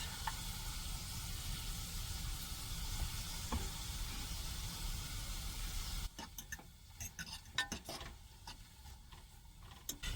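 Garlic sizzles with onions and carrots in a pot for vegetable soup cooked in a van, a steady frying hiss that gives way to scattered crackles and stirring clicks.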